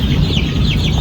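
Six young Golden Comet and Isa Brown chicks peep in a greenhouse, a brief run of close, loud, repeated high chirps over a low rumbling background.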